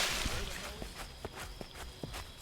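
Several quick footsteps in the video game Crime Simulator thud in an irregular pattern over a steady background hum, with faint voices in the distance.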